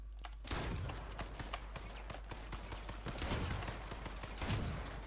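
Gunfire from the H1Z1 battle royale game, several sharp shots in quick bursts at a moderate level, with footstep-like clatter in between.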